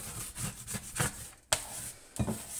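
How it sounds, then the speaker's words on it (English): A dough scraper rubs and scrapes pasta dough off a wooden tabletop in short rough strokes, faint and close, with one sharper knock partway through. "first thing I'm going to do is I'm going to take my dough scraper here."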